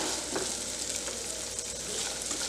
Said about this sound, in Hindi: हमने तेज गैस है, हमें इसको सॉटे कर लेना है जब तक ये लाइट ब्राउन ना हो जाए।